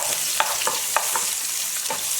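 Cumin seeds and sliced green chillies sizzle loudly in hot oil, a steady close hiss broken by a few sharp stirring clicks and taps, with no talking.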